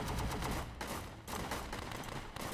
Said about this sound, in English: they're coming out shooting straight at us